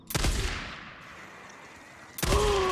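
Gunshots in the video game Days Gone come as two loud, close bursts with a quieter hissing stretch between them. Nobody speaks.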